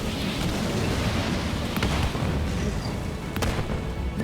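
A turret blows up during a Halo Wars 2 real-time strategy match, a loud rumbling explosion that fills the clip, with a couple of sharper bangs cutting through the continuous roar.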